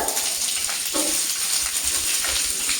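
Garlic and green chili fry in hot coconut oil in a pan, giving a steady close sizzle with crackly spatter that runs unbroken throughout.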